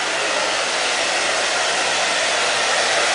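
Blow dryer running at full power, a loud steady whooshing hiss with a continuous motor drone, alone and unchanging for the few seconds.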